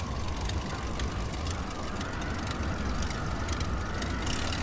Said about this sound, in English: The Fokker E1 is just so slow. It is so slow. Painfully slow. Such an underpowered engine.